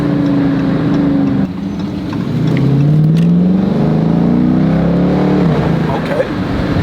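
A car engine drops a gear and revs hard, with a loud, sustained drone whose pitch dips and then climbs across the downshift. The roar is close and continuous, and voices can be heard faintly beneath it.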